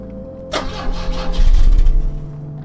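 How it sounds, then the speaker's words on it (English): In the video game The Drifter, a car engine cranks with a sharp click and a churning, rising turnover that sputters without catching, loud and close, with no speech. "It's still not firing. Better check the engine again."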